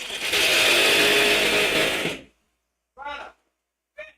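A power drill runs loud and steady in a workshop for about two seconds, then cuts off, followed by two short bursts of speech.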